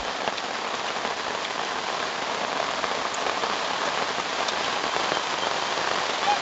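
Steady rain patters densely on a surface at a riverside campsite, an even hiss of drops with no voices.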